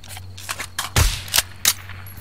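Shotgun blasts fired at overhead lights during a night close-quarters airsoft-style game at a small rail station: a cluster of sharp, near cracks, one loud heavy boom followed by two more distinct reports, over a steady low hum.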